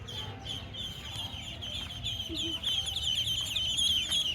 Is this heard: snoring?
no